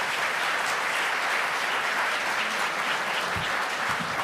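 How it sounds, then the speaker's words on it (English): An audience at a London School of Economics evening event breaks into a sustained, dense round of clapping that holds at an even level throughout, with no voices on top. "I think he deserves a round of applause."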